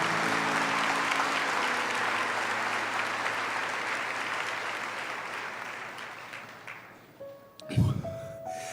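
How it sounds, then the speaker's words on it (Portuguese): A church congregation applauds loudly and steadily, a dense wash of clapping that slowly fades toward the end before a brief louder thump and tones break in. "Pode aplaudir com força."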